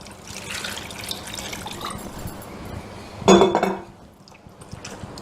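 Bitter gourd being rinsed by hand in a bowl of water, with steady sloshing and a louder splash of water and clinking dish midway, then quieter.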